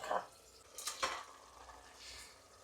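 Chicken pieces dropped into a pan of frying tomato masala give a few close scraping, clattering stirs and brief sizzle bursts, then a softer hiss settles in with no talking.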